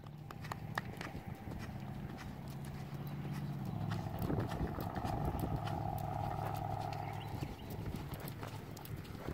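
Hoofbeats of a horse cantering in a riding arena during a jumping lesson, a steady rolling clip-clop rhythm close by, continuous across the whole stretch, with a faint whinny-like tone partway through and no talk.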